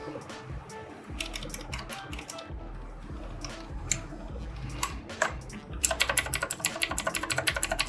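Keys clatter on a budget HP GK200 mechanical gaming keyboard with an aluminum plate, steady close typing that turns into a rapid, louder burst of clicky strokes near the end.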